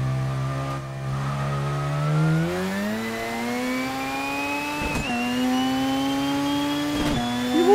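A racing car's engine revs in an Initial D-style mountain pass racing game featuring a Honda S2000 versus Mazda RX-7 battle, its loud whine climbing steadily in pitch through the gears with brief shift dips and tire noise.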